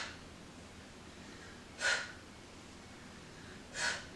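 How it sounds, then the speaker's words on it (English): Two short, sharp breaths are drawn about two seconds apart during a set of dumbbell hammer curls, faint and close against quiet room noise. "Breathing."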